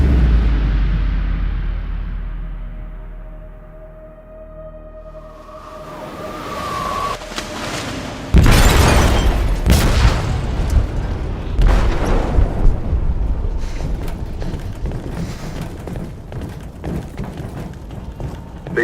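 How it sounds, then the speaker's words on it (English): A heavy blast goes off in a ship's hold in the video game Detroit: Become Human, a sudden loud boom after a tense low rumble, followed by rolling debris and rumbling aftermath. "They detonated an explosive in the hold."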